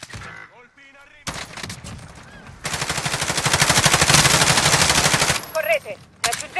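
Sustained automatic gunfire in the Warzone battle royale game, a rapid close burst that builds over several seconds, with sparse scattered shots and short voice lines before and after.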